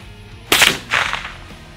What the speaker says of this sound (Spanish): Bueno, rifle moderno, 30 yardas, una moneda.